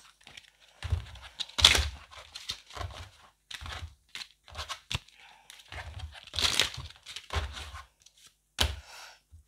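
Tarot cards being handled and shuffled, with irregular bursts of papery riffling, slaps and soft taps up close, alternating with short quiet gaps.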